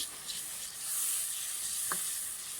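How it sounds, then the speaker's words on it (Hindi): Potatoes and green beans with cumin powder are stirred in a pan, giving a soft, quiet sizzle and faint scraping with one brief clink near the end. "अब अच्छे से इनको मिक्स करते हैं"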